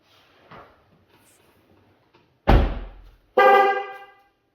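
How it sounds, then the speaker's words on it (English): After quiet shuffling, the solid door of a salvage 2013 Cadillac ATS slams shut with a heavy thunk, then a second loud bang follows with a brief metallic ring. "Close this door, actually."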